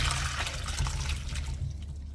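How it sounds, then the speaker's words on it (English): Water drains from boiled ackee as it is strained for a Jamaican corn pork and ackee dish, a close, steady splashing pour with gurgling that thins toward the end, with no speech. "so we just go strain off our ackee"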